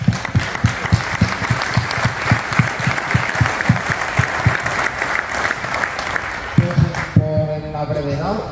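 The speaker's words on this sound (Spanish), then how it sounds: "Os tengo que aplaudir, os aplaudo" A group applauds at a charity golf tournament, with rhythmic, close and fairly loud clapping that carries on for several seconds before a voice starts speaking near the end.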